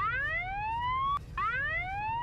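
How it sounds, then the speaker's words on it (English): A security alarm playing a Metal Gear sound effect: two rising electronic tones, each climbing in pitch, broken by a brief click between them, loud and alone. "Did you install a security alarm? Yes, but that has a Metal Gear sound effect."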